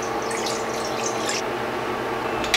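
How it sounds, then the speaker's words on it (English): Coconut milk pours steadily into a pan on a cooktop while biko, a glutinous rice cake in coconut caramel, is being made; a continuous close liquid splash ends with a brief clink, with no talking. "I'm going to pour in my coconut milk,"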